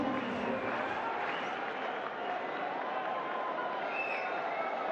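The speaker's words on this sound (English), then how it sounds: "They're having a good round of applause to it." A large cricket crowd at a T20 international between Pakistan and England applauds in a sustained, even wash of clapping and cheering for several seconds, heard from a distance.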